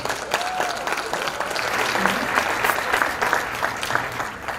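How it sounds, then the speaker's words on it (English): Audience applause at a Gary Chamber of Commerce luncheon honoring Vanessa Allen McLeod, steady continuous clapping from a room of people, moderately loud, lasting the whole stretch. "Let's give her a round of applause."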